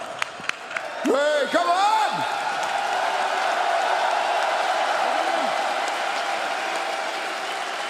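A crowd of supporting fans cheering and whooping, a broad sustained roar with a few sharp claps at the start, while someone shouts over it close by.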